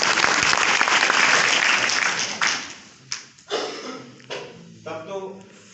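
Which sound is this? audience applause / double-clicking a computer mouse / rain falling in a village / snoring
audience applause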